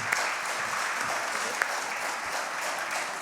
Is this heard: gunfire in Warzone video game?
no